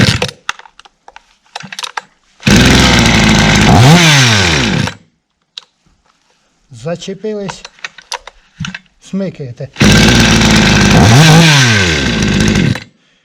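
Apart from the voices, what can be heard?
chainsaw engine running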